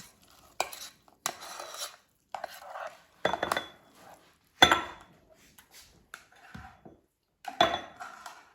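Oatmeal fresh from an air fryer being scooped into a bowl: a series of separate clinks, scrapes and knocks of utensil against dish, close and fairly loud with short quiet gaps between them.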